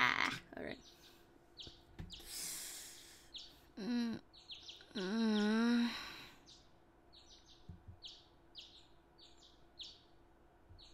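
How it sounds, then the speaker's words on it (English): Birds chirp in the morning in a string of short, bright calls repeating through the scene, joined by a few louder warbling notes and some other nearby sounds. "I woke the next morning to the sound of birds chirping."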